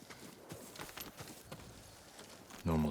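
Horse hooves clop in an irregular walking rhythm at moderate distance in the video game Ghost of Tsushima, a farm horse, ending in a sudden louder burst of sound.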